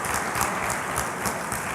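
Delegates at the AFC Congress applaud to elect a candidate by acclamation, producing dense, even clapping from a large hall audience throughout the short stretch.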